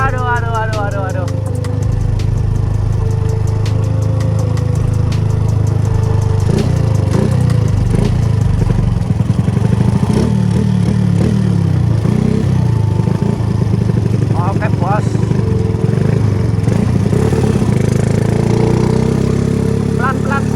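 A motorcycle engine runs steadily through a cold test ride with a low, continuous drone and slight shifts in pitch, while someone talks over it.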